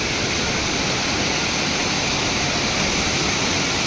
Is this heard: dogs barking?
no